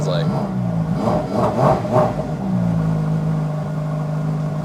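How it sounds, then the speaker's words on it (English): A Ferrari supercar engine revs up a few times with quick throttle blips over a steady idle, close and fairly loud, with someone talking over parts of it. "Give her a few revs and see what it sounds like."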